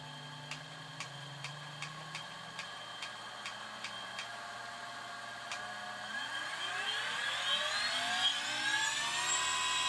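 A brushless DC motor on a controller test rig with a dummy load, first a steady regular ticking at low speed, then a rising whine climbing in pitch as it spins up, fairly loud and alone.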